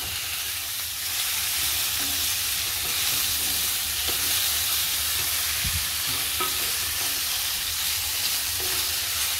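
Mushroom masala cooking in a pan on medium gas, a steady, even sizzle and hiss with occasional faint stirring bumps, continuous and close.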